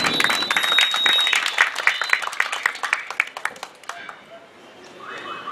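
Applause at an agricultural fair committee event, starting as brisk clapping that thins into scattered individual claps and fades out, with talk near the end.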